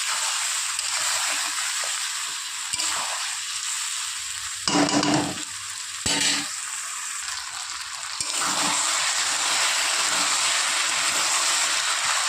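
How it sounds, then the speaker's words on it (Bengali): Potatoes sautéed with ginger, onion and garlic spice paste in a pan for a rohu fish curry, a steady close hiss of frying broken by a few brief scraping stirs. "ভালো করে আলুর সাথে মশলাটা কষিয়ে নেব।"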